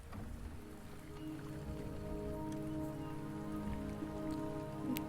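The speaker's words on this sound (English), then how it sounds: "The rain is subsiding, and the sky will soon clear." Steady rain pattering on surfaces in the video game Wuthering Waves, a soft, continuous hiss of drops with faint droning ambient tones underneath, no talking.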